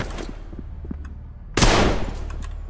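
A weapon fires in the video game Trepang2: low, quiet background hum, then one sharp, loud burst of gunfire that rings out and fades over the next half second.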